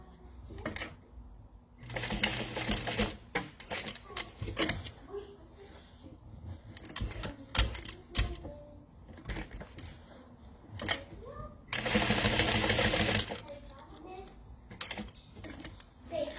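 A sewing machine stitches a Boon wallet in short bursts of rapid mechanical chatter, two longer runs standing out, separated by pauses filled with handling noises and a person talking.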